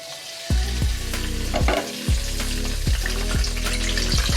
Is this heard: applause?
no